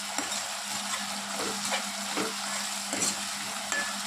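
Ginger fries in hot oil for a simple chicken curry, sizzling steadily up close with a few soft stirring scrapes and no talk.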